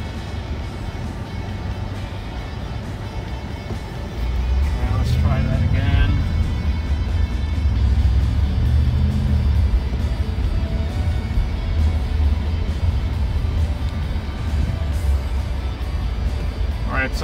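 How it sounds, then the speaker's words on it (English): A BMW car rolls slowly past parked cars while searching for a parking spot, its engine a low, steady rumble that swells after a few seconds and stays close, with someone talking over it. "let's drive past these cars and find the spot"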